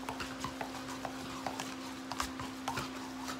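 A spoon scrapes and stirs sliced turkey and dressing in a pan, giving soft, irregular clinks and scrapes at close range over a steady low hum.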